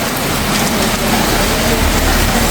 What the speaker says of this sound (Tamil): இன்றைக்கு முல்லைத்தீவில் மழை அடித்து ஊற்றுது பாருங்க.